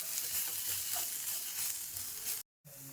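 A squid stuffing mixture with chilli powder and pepper sizzles loudly in a pan as it is sautéed, a close bright hiss with faint stirring, cut by a brief silence near the end.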